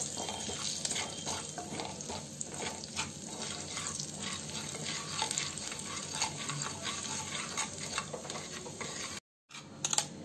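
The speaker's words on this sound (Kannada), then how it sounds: "ಒಗ್ಗರಣೆಗೆ ಒಂದು ಎರಡು ನಿಮಿಷ ಸಣ್ಣ ಊರಿನಲ್ಲಿ ಇಟ್ಕೊಂಡು ಎರಡು ನಿಮಿಷ ಫ್ರೈ ಮಾಡ್ಕೊಳ್ಳಿ ಅದನ್ನ" Mung bean masala tempering frying in oil on a low flame, a continuous dense crackle and sizzle heard close up, broken by a brief silent gap near the end.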